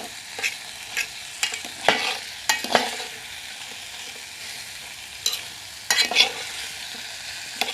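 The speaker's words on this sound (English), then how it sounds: "Mix the potatoes well with our sauce" Potatoes being stirred into noodle sauce in a pan, a few scraping strokes and soft sizzling bursts scattered through otherwise quiet stretches, close and moderately loud.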